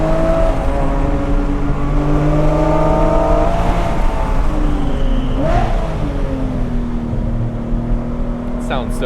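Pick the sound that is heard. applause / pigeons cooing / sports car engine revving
sports car engine revving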